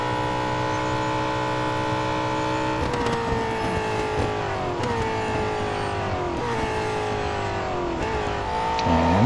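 A Holden Commodore ZB supercar engine drones steadily around Bathurst in Real Racing 3, its note dipping and climbing through repeated downshifts and revs as the race car rounds corners, loud and continuous with no talk.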